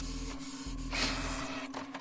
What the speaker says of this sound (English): It's a printer. It looks like it has paper in it.